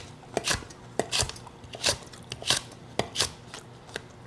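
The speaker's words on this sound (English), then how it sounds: "Now from there, I just chop." Knife chopping ingredients for chicken noodle soup on a cutting board, a series of about a dozen sharp, close knocks in an uneven, unhurried rhythm.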